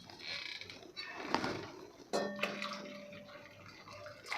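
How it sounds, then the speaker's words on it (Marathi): Hot water poured into a pot of spicy katachi amti makes short splashing, gurgling bursts over a quiet kitchen background, along with a few faint clinks of the vessel. "यामध्ये मी अजून गरम पाणी घालणार आहे"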